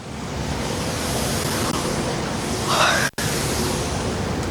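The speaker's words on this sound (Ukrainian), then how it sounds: "Розприскувачі води другий рік поспіль влітку працівники Чернівці водоканалу встановлюють на центральній та соборній площах" Street water sprinklers spraying on the central square of Chernivtsi in summer heat, a steady broadband hiss of falling spray that holds throughout, briefly cut off once near the end.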